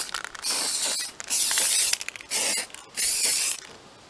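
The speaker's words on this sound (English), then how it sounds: "I'm just going to go ahead and spray that down under here" Four sustained hissing bursts of tacky spray adhesive on a door's styrofoam, close and loud, separated by short pauses with faint clicks and rustles between them.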